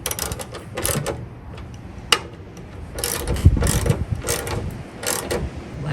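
A ratchet tightens bolts on the bed light housing of a Toyota Tacoma pickup, giving close, rapid clicking bursts in an uneven rhythm, with a few sharper knocks.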